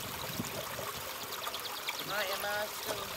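A commemorative water feature in Three Springs flows steadily with a continuous trickling and splashing wash, with faint bird chirps briefly heard over it.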